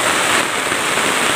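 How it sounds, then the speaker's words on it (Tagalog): Heavy rain pours down steadily in the mountains near a fire, a loud, dense, unbroken hiss close by with no voices. "Bumus yung ulan na malakas."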